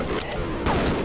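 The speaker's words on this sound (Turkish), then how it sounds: "Yine bir bomba." An explosion from a grenade-type bomb in the Half-Life video game, a dense burst of blasts and crashing noise that swells again partway through and fills the short moment loudly.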